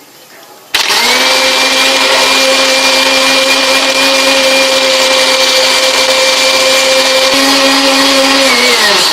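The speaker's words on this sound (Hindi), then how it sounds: "अब इसे हम ब्लेंड करेंगे।" A kitchen blender whirs steadily at full speed, mixing a mint drink with cream, cumin powder and ice; the loud motor starts abruptly and runs on without a break.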